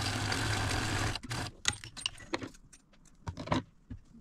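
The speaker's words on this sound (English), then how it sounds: "We're going to fold it right sides together and stitch a half inch seam here." A sewing machine stitches a half inch seam in folded fabric, a dense steady whir for about a second, then stops and gives way to scattered clicks and handling of the cloth.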